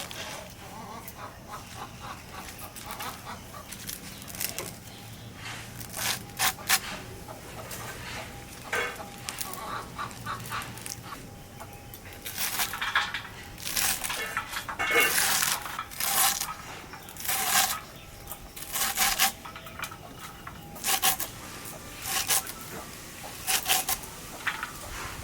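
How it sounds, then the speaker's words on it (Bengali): Pumpkin greens and kathkhol greens are chopped with a knife, giving irregular sharp cutting strikes that sometimes come in quick clustered bursts and sometimes alone, over faint background noise. "এখানে শাকগুলো ভালো করে কুচে দেই"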